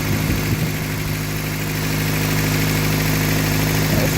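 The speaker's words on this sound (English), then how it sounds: "Idling a little high, might have to do some tinkering with it." A rebuilt engine in a Toyota 4x4 pickup idles a little high, giving a steady, close, even drone with a low rumble that holds unchanged throughout, with no voices.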